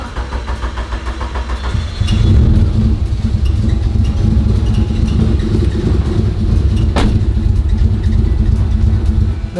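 A Stingray C2 Corvette engine idles roughly and unevenly after priming the fuel pumps, a close, steady low rumble that swells after a couple of seconds and keeps running with a sharp click partway through.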